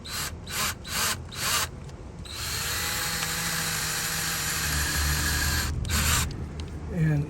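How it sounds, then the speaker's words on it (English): A power drill bores holes into a wooden fence door, a steady sustained whir running about four seconds after several short trigger bursts, then a few more brief pulses as it stops, close and fairly loud. "let's go ahead and drill our holes now"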